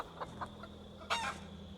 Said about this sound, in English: Ooh, cockerel. Let's pick you up.